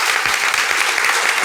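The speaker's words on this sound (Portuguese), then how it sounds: "Vamos bater palmas" Dense, steady clapping from a group at a business talk event, loud and close, filling the whole short moment.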